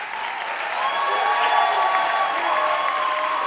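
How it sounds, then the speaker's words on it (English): Steady audience applause fills a live podcast recording at Tufts, swelling slightly after the first second and holding loud and dense to the end, with some cheering mixed into the clapping. "And now keep the applause going for the big finish."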